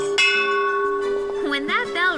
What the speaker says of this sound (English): When that bell rings, you'll probably start to drool.